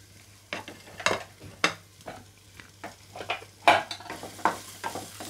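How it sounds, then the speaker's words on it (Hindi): Dried dates and raisins roast in ghee in a pan on low heat, with a soft sizzle under a run of irregular scraping stirs and light spoon knocks at close range; no voices. "सेम पैन में हम थोड़ा सा घी और डालते हैं और इसमें ये छुहारे और किशमिश को डाल देते हैं।"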